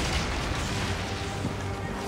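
Catapults on warships firing in Assassin's Creed Origins, a sustained deep rumbling boom with heavy low-end impacts rolling together, loud and continuous with no clear gaps.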